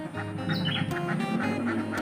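Laying ducks quack repeatedly in a steady, close rhythm, with the harsh calls overlapping a constant low hum and no talking.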